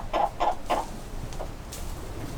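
Black mottled Ancona hens cluck three times in a quick, evenly spaced run, close by, then softer scattered clucks trail off into quiet barnyard background.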